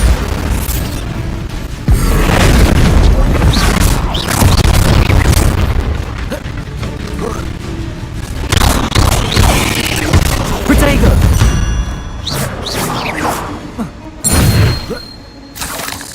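The Bombarda spell in the video game Hogwarts Legacy sets off loud booming explosions with shattering crashes and debris, several blasts in a row over steady game sound.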